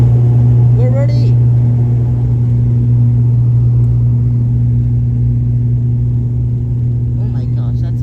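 Inside a Novoair aircraft (S2-AJK) on the Chittagong to Dhaka flight, the engines drone steadily and loudly with a deep, constant hum, and faint voices surface briefly near the start and end.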